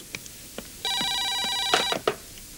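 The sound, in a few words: telephone ringing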